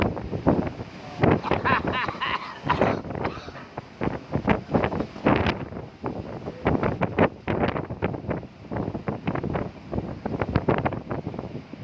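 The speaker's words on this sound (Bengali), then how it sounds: "প্রচুর বাতাস।" Strong storm wind in Saudi Arabia buffeting hard and close in repeated loud gusts and rumbling blasts throughout, with occasional faint voices underneath.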